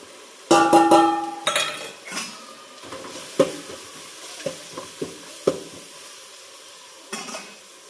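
Spices hit a hot pan in a home kitchen with a sudden loud sizzle, then a metal spoon scrapes and clinks against the pan in a few sharp strokes while the frying hiss fades.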